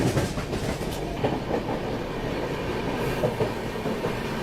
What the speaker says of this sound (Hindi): Overtaking Hazrat Nizamuddin Bhusawal Gondwana express.